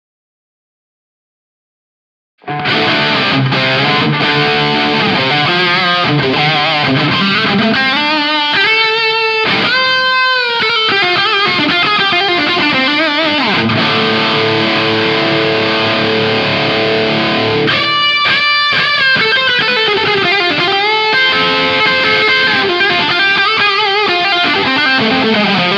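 Electric guitar played through a cranked Marshall solid-state amp into a Two Notes Captor X on a close-miked 4x12 cab preset with added reverb: heavily distorted riffs and sustained chords begin after a short silence and run loud and continuous.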